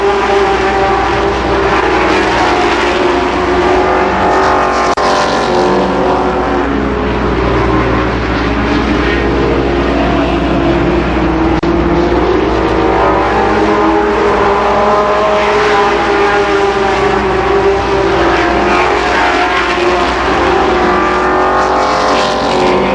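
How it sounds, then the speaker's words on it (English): Race cars circling the oval at Columbus Motor Speedway in 1992 in the final laps, a loud continuous engine roar that swells and fades as the cars pass, with no talking. "The 33 car, Carl Stapleton, closes on Joe Hill"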